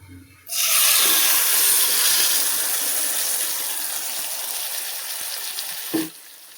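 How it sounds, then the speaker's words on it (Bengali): Spiced pabda fish for a mustard-poppy seed curry hits a hot pan with an abrupt, loud, continuous hiss of sizzling oil that fades slightly before a brief clatter and sudden stop. "এবার আমি মশলা মাখানো মাছটাকেও এর মধ্যে ঢেলে দেবো"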